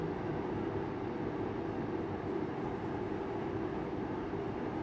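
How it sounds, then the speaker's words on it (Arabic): A home air purifier running nearby, giving a continuous, even broadband whoosh of airflow with a low hum underneath, steady throughout and fairly quiet, with no voices. "هذا صوت ترى هذا عندي يعني بيوريفاير"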